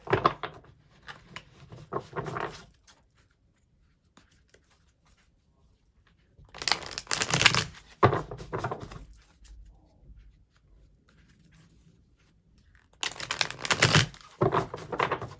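Sticky tarot cards being shuffled close by in three separate bursts of riffling, slapping and clicking, with near silence between the bursts.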